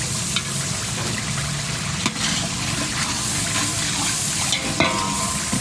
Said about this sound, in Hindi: अब मज़ीद इसकी थोड़ी देर के लिए भुनाई करेंगे ताकि ये दही हल हो जाए।